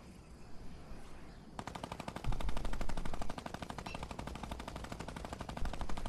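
Light machine gun fire in a video game rattles in a long, rapid, evenly spaced burst of shots, starting after a brief lull and continuing steadily to the end, fairly loud and close with no talking.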